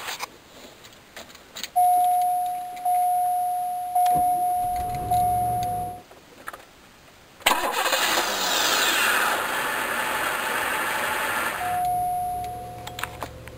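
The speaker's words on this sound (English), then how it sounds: "The car started fine." A GM car with a Pass Key II VATS bypass cranks and fires up, with a chime and a few separate starter bursts, then a louder catch into a steady idle with a brief rev, close by and no talk.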